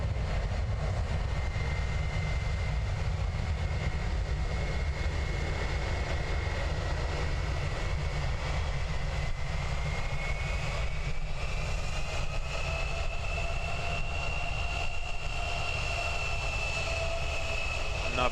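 Air New Zealand ATR 72-600 turboprop departing runway 20 at Christchurch Airport, a steady broad engine roar with a faint rising tonal whine, sustained and fairly distant throughout with no talking.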